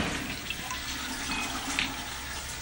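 Tap water runs steadily into a sink to rinse a contact lens, a close, even hiss lasting the whole moment with no voices.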